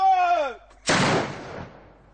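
A medieval gunpowder cannon, fired at a 1429-period reenactment at the Château de Meung-sur-Loire, goes off in a single loud close blast that rumbles and fades over about a second, just after a short tonal call.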